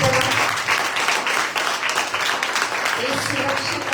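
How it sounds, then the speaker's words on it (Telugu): A church congregation claps during a Friday fasting prayer service, a continuous dense burst of applause from many hands, fairly loud, mixed with voices. "గొప్ప దేవుడు అన్న వాళ్ళందరికీ అయితే చప్పట్లు కొట్టారా?"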